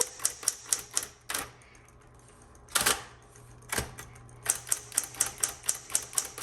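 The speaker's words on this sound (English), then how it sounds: "Let's keep typing. Let's test out each key." Typing on a 1960s Smith Corona Electra 210 electric typewriter, sharp close key strikes in quick bursts with a few brief pauses and louder carriage-like clacks between.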